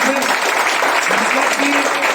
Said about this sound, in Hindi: इसके लिए जोरदार ताली